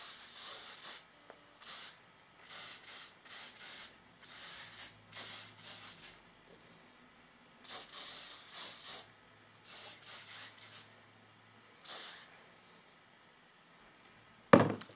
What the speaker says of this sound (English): Spray all of this on top just to set it in